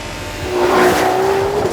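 Loud, close 2026 Ferrari 12Cilindri V12 engine pulling hard through a quick upshift, a sustained roar with a brief dip and recovery in pitch.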